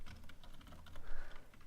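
Quick, light keystrokes patter on a computer keyboard, close and fairly quiet, in an uneven run of taps with no talking.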